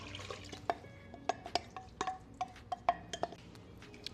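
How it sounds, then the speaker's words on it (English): Beef broth going into an Instant Pot of chili, heard as a run of sharp metallic clinks and stirring knocks of a spoon against the pot, evenly spaced and close. "And now we're adding 2 cups of beef broth."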